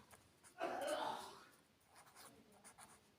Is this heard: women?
no